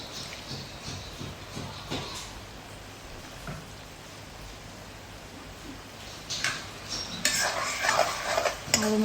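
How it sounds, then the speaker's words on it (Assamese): Paneer fried rice ingredients with vinegar are stirred in a pan, giving scraping and clinking utensil sounds against soft sizzling, with sharper clattering bursts near the end. "আৰু মিলাই ল'ম ভালদৰে।"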